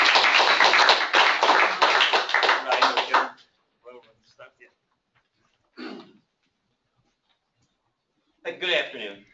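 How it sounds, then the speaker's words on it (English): Audience applause at a seminar, a dense burst of clapping for about three seconds that stops abruptly, followed by scattered faint sounds and brief voices. "let's give them a round of applause."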